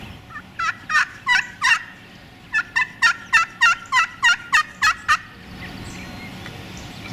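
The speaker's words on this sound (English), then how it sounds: "And when they're ready to breed, they yelp." A wild turkey hen in the spring woods yelps in a steady series: four spaced notes, a brief pause, then about ten quicker, evenly paced yelps, clear and fairly close with no voices.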